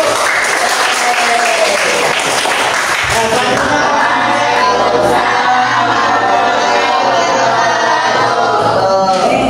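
A classroom group bursts into dense clapping for the presenters, sustained and fairly close for several seconds, with voices talking and calling out over the applause as it goes on.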